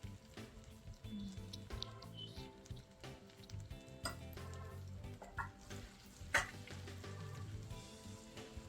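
Turmeric and chili go into a pan of sizzling veg kadhi, giving a steady close frying crackle with stirring, soft squishes and occasional scrapes, plus one sharper clack partway through.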